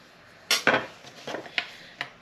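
A metal pot is scraped and clinked with a utensil while steak and kidney pudding is cooked: several sharp scrapes and knocks, close and fairly loud, spaced irregularly with no talk.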